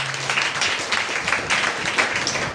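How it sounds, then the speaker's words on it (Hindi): An audience at a church sermon breaks into steady, dense applause that glorifies God, with many hands clapping at once close by and keeping up an even, rolling wash throughout. "ताली बजाकर परमेश्वर की महिमा।"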